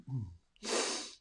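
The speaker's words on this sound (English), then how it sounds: "Big breath in." A single deep breath drawn in slowly and audibly through the nose, preceded by a short murmur, close and intimate in a quiet room during a meditation.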